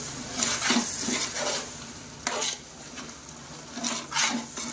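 A kilo of tomatoes cooks in a large pan for paneer biryani, stirred with a big slotted spoon: soft sizzling with repeated scraping strokes and occasional metal clinks, fairly quiet.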